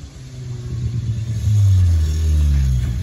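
A VW Passat 1.8T engine revs hard as the car drives past, a loud, rising mechanical roar that swells and holds near the listener.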